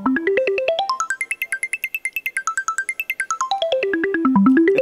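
A synthesized arpeggio of quick, bright, beeping notes climbs steeply, holds high in a fast repeating run, then steps back down, evoking an 80s arcade game, alone and clear.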